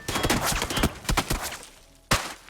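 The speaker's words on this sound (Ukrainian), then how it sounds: "мене зі всіх обстрілюють" Bursts of rapid gunfire in PUBG crackle in quick succession, then a pause and one more sharp loud shot near the end.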